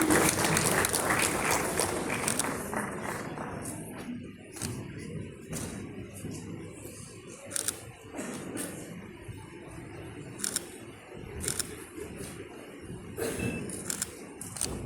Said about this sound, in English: A clap for Eva and Kraubok for boxing